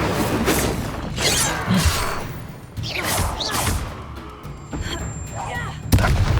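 Fiery blasts of the Incendio spell in the Hogwarts Legacy video game: repeated loud whooshing, thudding bursts of flame fill the whole stretch, with a sharp hit near the end.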